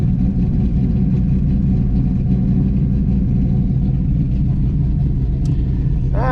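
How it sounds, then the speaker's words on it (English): A Camaro Z28 engine idles high in a steady, close, continuous low rumble with an even mechanical drone and no voices over it. "See, it's still idling high."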